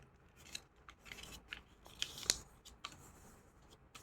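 Paper for an origami chair being folded and creased by hand: soft, quiet crinkles and crisp taps scattered across the clip, with a sharper crackle near the middle and no talking.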